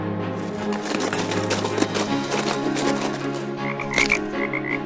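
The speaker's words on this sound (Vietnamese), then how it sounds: "Ồ, có phải chú cóc nhỏ hôm trước kia không nhỉ?" A toad croaks in an animated fairy tale, a dense raspy rattling call running loud and continuous against a musical backdrop, with a few higher chirps near the end.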